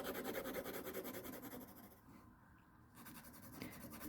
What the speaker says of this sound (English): you can hear the texture of the paper as I'm doing this, so you know it's not a smooth paper here